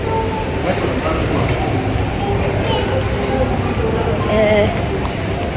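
Metro train rumble and station bustle in Qatar fill the space, a steady low roar with faint clatter and distant voices throughout.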